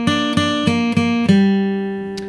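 A fingerstyle guitar plucks a chorus hook as five clear, evenly spaced ringing notes, close and loud. The last note is left to decay on its own.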